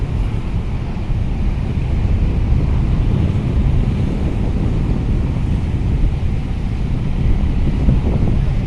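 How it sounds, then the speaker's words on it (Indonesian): Strong, steady wind at a harbour on the Sunda Strait roars and buffets the microphone throughout, with a low rushing rumble of heavy waves beneath it. "Angin masih kencang banget."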